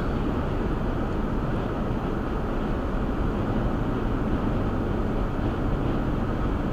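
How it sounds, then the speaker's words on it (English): Constant wind roars across the microphone, a dense, unbroken rumble with no voices, filling the whole stretch at a steady, fairly loud level. "I can hear the wind. It's pretty windy out here."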